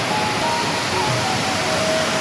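Roaring water of Steelhead Falls in British Columbia, Canada: a loud, dense, continuous rush of falling water that fills the whole stretch evenly, with no voices over it.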